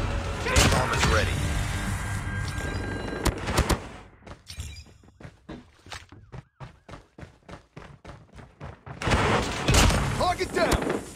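Gunfire in the Call of Duty Mobile video game on a raid map, rapid bursts of automatic shots with a clear run of evenly spaced single shots in the middle, loud and close amid game sound effects and announcer voice lines.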